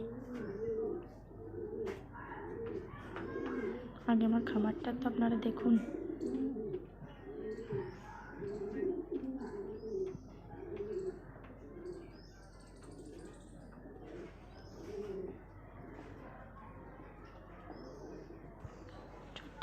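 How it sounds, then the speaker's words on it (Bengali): Many fancy pigeons coo in soft, repeated rolling calls close by in a loft, with occasional chirps and wing flutters, while someone talks quietly. "আমার একটা ফেন্সি পায়রার খামার আছে"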